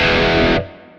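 A short burst of heavily distorted electric guitar through a Kemper Profiler amp, thick and buzzing, cutting off abruptly into a faint decaying hum.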